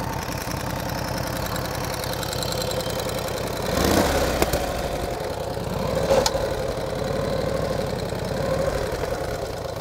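A 1949 Harley-Davidson Panhead with a sidecar, a big heavy bike, creeping downhill on a low, steady throttle with a loping, knocking engine rumble, close and continuous, with brief louder surges midway.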